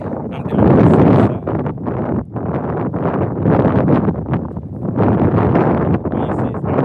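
Strong wind buffets the microphone outdoors on a bass fishing trip, loud rumbling gusts surging and dipping continuously with no clear speech.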